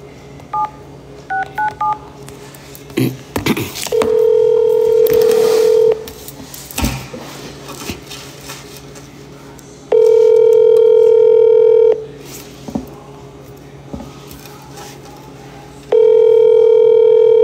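A phone number is dialed with a quick series of touch-tone beeps, then the ringback tone sounds in three long, loud rings spaced several seconds apart, with faint background noise between them.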